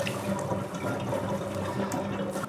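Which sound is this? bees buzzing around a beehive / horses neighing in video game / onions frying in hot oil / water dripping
water dripping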